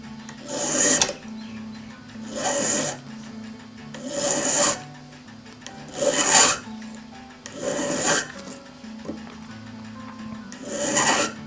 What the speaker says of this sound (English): file the top edge of the tapered pin at approximately 45 degrees